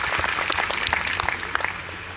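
An audience at a Hindi Day poetry event claps, a short burst of scattered, uneven clapping at moderate level, with no speech over it.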